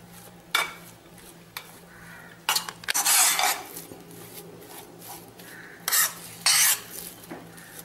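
A spoon stirs a sweet jaggery filling for modak in a pan, with scraping strokes in separate bursts of varying loudness against a quiet background.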